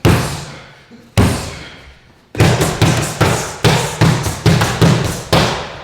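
Krav Maga hammer fist strikes land on a handheld training pad: two separate heavy thumps, then a quick burst of about nine close, loud, punchy impacts in an uneven rhythm, each ringing briefly in the room.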